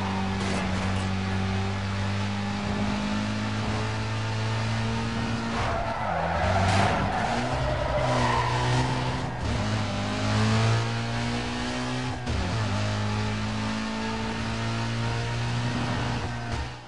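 Racing car engine revving with tire skids and squeals in the Need for Speed Most Wanted Black Edition video game, loud and continuous throughout, with shifting engine tones and screeching slides.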